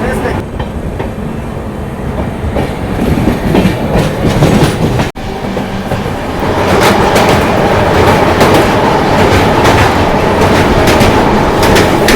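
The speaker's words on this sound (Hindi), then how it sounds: "तो फिलहाल डॉट ऑन टाइम हम लोग डिपार्ट कर रहे हैं जलपाईगुड़ी डिस्ट्रिक्ट के new Jalpaiguri junction railway station से" Aboard the 13116 Sealdah Humsafar Express as it pulls out of New Jalpaiguri Junction, a continuous close rumble and rhythmic wheel clatter builds steadily, with a brief dropout midway and faint voices underneath.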